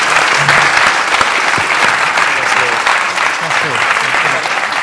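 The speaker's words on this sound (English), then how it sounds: "Ladies and gentlemen, a round of applause for Darren." An audience at a startup presentation event gives loud, dense applause that continues without pause, with faint murmurs of voices underneath.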